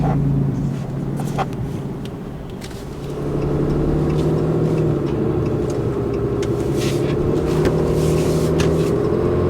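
A RAM 3500 HO Cummins diesel pickup towing a big fifth-wheel trailer, its exhaust brake a loud, steady, low droning rumble that dips briefly and then holds strong.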